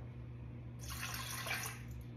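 About 120 grams of water poured into a mixing bowl, a brief soft splashing stream starting partway through and tapering off, quiet and close.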